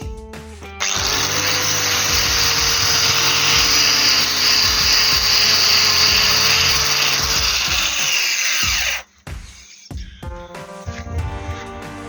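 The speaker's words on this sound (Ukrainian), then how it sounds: "буду зачищати дерево болгаркою з допомогою щітки по металу" An angle grinder with a metal wire brush scrubs loudly across oak for several seconds, then cuts off, followed by scattered clicks and handling noises.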